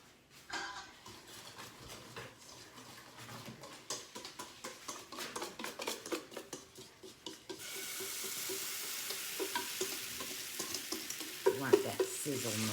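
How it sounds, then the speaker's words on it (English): Cornbread batter poured into a hot iron skillet, first scraped and stirred in rhythmic ticks, then bursting into a steady close sizzle with small pops. "You want that sizzle noise."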